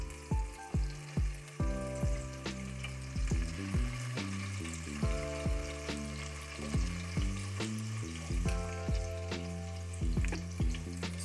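Chicken shashlik sauce sautéing in a pan for a restaurant-style gravy: a steady, close sizzle runs under prominent tonal music throughout, with no talking.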